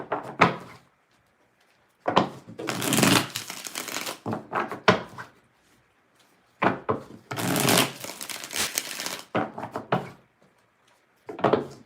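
Several separate bursts of riffling and crisp tarot card shuffling, each a second or two long, separated by short silences.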